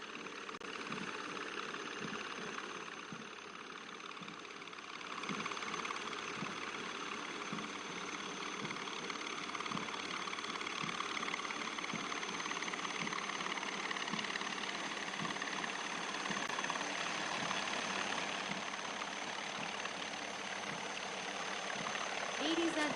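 One Cheetah and two Chetak army helicopters of 665 Army Aviation Squadron fly in formation over a passing-out parade, a steady mid-distance engine drone with rotor throb that swells slightly after the opening seconds and holds.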